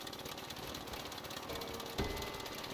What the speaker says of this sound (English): I wish you could choose what kind of sound the engine put out